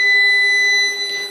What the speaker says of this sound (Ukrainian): інвертор видав помилку. Це я включив зумер, перша помилка.